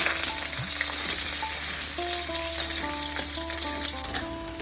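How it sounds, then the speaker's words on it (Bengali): Potatoes frying in hot mustard oil for a banana flower dish make a strong, close, unbroken sizzle, with light stirring and a faint thin whine running underneath. "এবার আলুগুলো দিয়ে দিচ্ছি। আলুগুলো খুব লাল লাল করে ভেজে নিতে হবে।"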